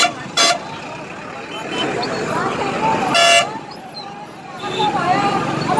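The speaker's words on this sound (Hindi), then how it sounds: "साइड में आवाज है गाड़ी।" Steady roadside traffic rumble in Jalore with short car horn toots cutting through, one early and a longer blast midway, with crowd noise beneath.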